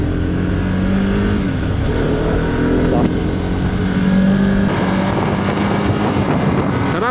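A 2020 Rouser RS 200 motorcycle rides through traffic, its engine a steady drone mixed with wind buffeting the microphone and the surrounding hum of nearby vehicles, continuous throughout.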